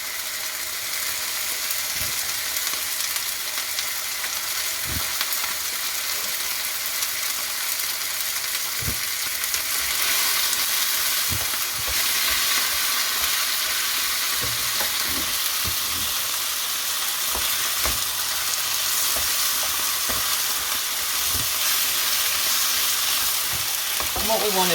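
Packet mince is added to cooked onion and fried in a pan for a chow mein cabbage stew. A steady sizzle grows louder after the meat goes in, punctuated by periodic spatula knocks and scrapes as the meat is broken up.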